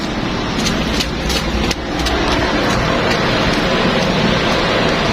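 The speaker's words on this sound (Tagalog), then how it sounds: "Ulan no?" Steady rain hisses across a surface, with a broad wash of noise and a faint vehicle rumble underneath; no one speaks.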